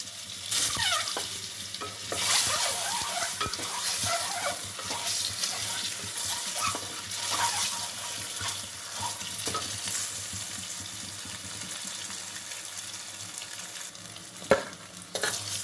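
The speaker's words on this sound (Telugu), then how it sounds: "ఇవి ఫ్రై చేసుకోవాలి ఎగ్స్ వేస్తున్నానండి" Boiled eggs fry in oil seasoned with salt and turmeric in a pan, a continuous close sizzle and crackle with scraping stirring throughout, and a sharp clack near the end; no one speaks.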